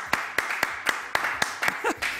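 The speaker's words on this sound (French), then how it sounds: "on l'applaudit très fort" A small group claps in brief, sharp, evenly spaced hits, about eight claps over two seconds, fairly close and moderately loud, with a faint voice near the end.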